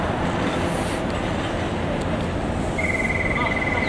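A Keikyu Line train pulls away and runs, a steady rumbling drone of wheels and motors with a faint high whine rising near the end, heard from inside.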